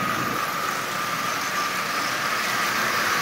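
A Marx 999 toy train locomotive, bought cheaply and oiled, runs on its test track, giving a steady continuous motor whir and hum that stays even and fairly loud throughout with no talk.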